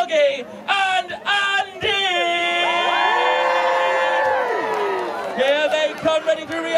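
A crowd cheers and whoops with children's shouts at the CBeebies Land grand opening at Alton Towers, a sustained loud swell of voices that rises, holds for several seconds, then breaks into scattered shouts.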